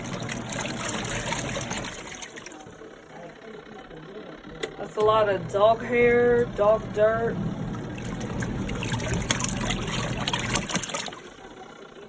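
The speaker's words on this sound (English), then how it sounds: "I just wanted to show y'all my portable washer. It's pretty powerful." Portable washing machine churning a load with water, a steady sloshing, trickling wash noise running throughout, loud and close, with a person talking briefly in the middle.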